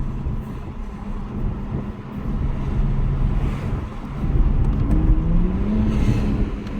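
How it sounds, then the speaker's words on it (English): 2021 Toyota Supra 3.0, roughly 385 horsepower, accelerating hard as heard from inside the cabin, a steady loud engine roar with a rising pitch sweep near the end over road rumble. "Oh yeah, that pull was good."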